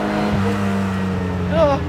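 A 1962 MG Healey Midget engine holds a steady, high-pitched drone at high revs in first gear, rising briefly near the end, with a voice talking over it.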